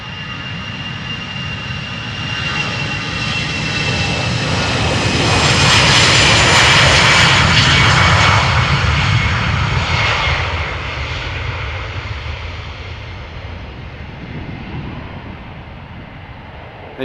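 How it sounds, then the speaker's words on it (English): A 16-year-old SmartLynx Airbus A320 jet flying for SAS passes near Amsterdam Schiphol, its engine roar swelling loudly to a broad peak and then slowly fading, with no talk over it. "this A320 from SmartLynx, but flying for SAS, is 16 years old"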